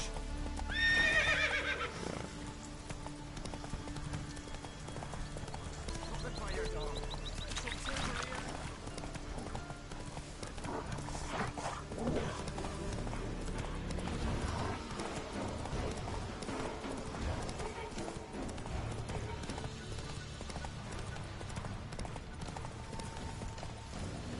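In a video game, the horse Roach gallops with quick clip-clop hoofbeats and lets out a loud whinny near the start, set against a steady game soundscape while a voice talks.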